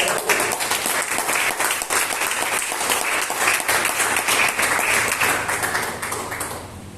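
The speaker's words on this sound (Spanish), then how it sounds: "Vamos a dar un aplauso a eso." A church congregation breaks into steady, loud applause during a service, many hands clapping in a dense continuous wash that fades slightly toward the end.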